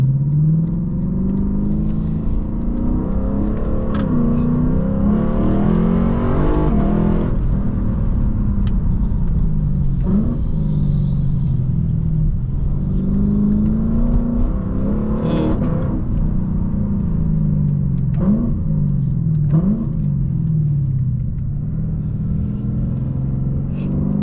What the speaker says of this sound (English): We'll do one last meaty downshift